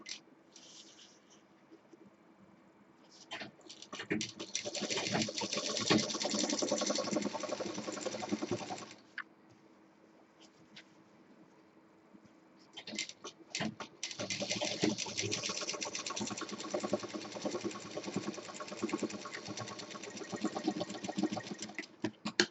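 A sewing machine stitches fabric for a Rajasthani jhola bag in two long, steady whirring runs of several seconds each, close and fairly quiet, separated by a pause with faint handling noise.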